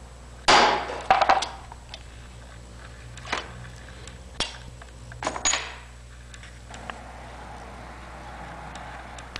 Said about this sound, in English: There's my 16th inch punch.